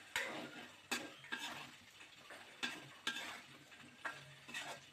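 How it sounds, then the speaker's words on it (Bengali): Boiled potatoes fry quietly in a pan for an egg biryani while being stirred, with a faint sizzle under repeated sharp scrapes and taps of the spoon against the pan at an uneven rhythm. "তো আলু ভেজে নিয়েছি"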